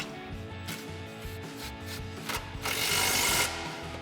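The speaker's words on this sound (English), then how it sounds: "We'll grab our 13mm socket and extension on our impact to go ahead and tighten that back down" An impact wrench with a 13mm socket and extension tightens a bolt on the exhaust isolator of a 2015-2017 Mustang GT Corsa cat-back exhaust. Several short, harsh bursts build to a longer, louder rattling run near the end.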